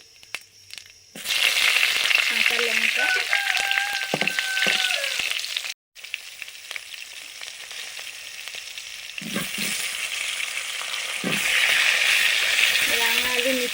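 Panch phoron spices frying in hot oil, a loud bright sizzle bursting in after a quiet start, briefly cut off, then continuing with a second surge; a voice speaks in places.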